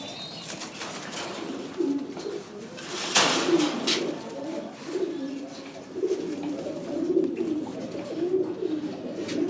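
Army Fat fancy pigeons coo in repeated low throaty phrases close by, with a burst of wing flapping and faint talk in the background.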